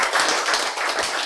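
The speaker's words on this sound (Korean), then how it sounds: "여러분 이제 이럴 때 되면 박수 한번 치셔야지" A lecture audience at a health talk claps together in a short, fairly soft burst of rapid, overlapping hand claps that lasts just over a second.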